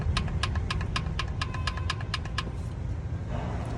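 Hyundai HB20 with a 1.0 Kappa engine idles with excess piston clearance, giving a sharp, regular metallic knock over a steady engine hum, fading after the first few seconds.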